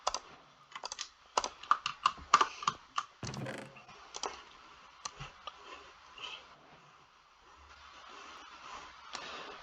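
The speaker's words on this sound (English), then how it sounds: "this dropper is going to be clicking" A Minecraft dropper in a multi-item sorter gives quick bursts of clicking, dense and irregular at first, then sparser and softer toward the end, with no talk.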